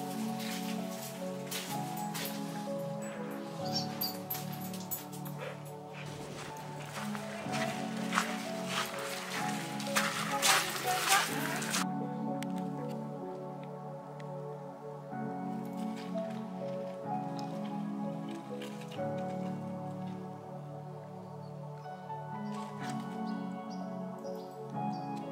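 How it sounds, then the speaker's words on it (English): Inside a sea cave on the Yorkshire coast, water drips and patters unevenly against rock, with soft washing ambience, louder in the first half and quieter later. "Sea cave."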